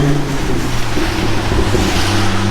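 Volvo V70R engine and road rumble heard with the window down while driving under an overpass; a steady, loud low drone with wind and road noise blending in, no speech.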